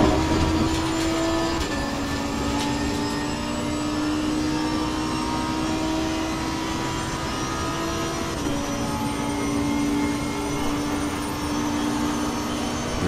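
A Lamborghini race car in a racing game at Circuit Paul Ricard, its engine holding a loud, steady high-revving drone with a brief pitch drop as it shifts gears, alone and close.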